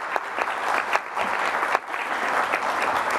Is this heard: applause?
yes